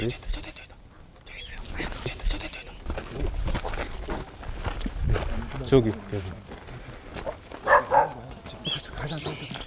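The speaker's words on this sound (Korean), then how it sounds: "어디선가 개 짖는 소리가 납니다" A stray dog barks a couple of times somewhere out of sight, short bursts rising over steady outdoor background noise and faint movement, in a place where abandoned dogs roam.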